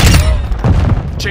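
Call of Duty: Modern Warfare II gunfire, two loud, close bursts of rapid automatic shots with heavy thumping booms, the second short and trailing off.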